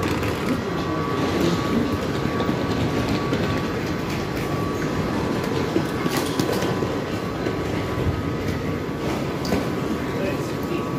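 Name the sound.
London Underground train to Heathrow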